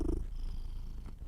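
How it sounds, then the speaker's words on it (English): A cat purrs loudly and close by, a steady low rumbling purr running through the whole short stretch with no talking over it. "He's a loud purr."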